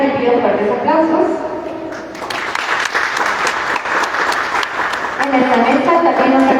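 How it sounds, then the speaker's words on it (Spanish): Audience at a book discussion event in a ministry hall breaks into applause between stretches of someone speaking into a microphone, the clapping filling the middle section before his voice resumes. "a quien también lo recibimos con fuertes aplausos"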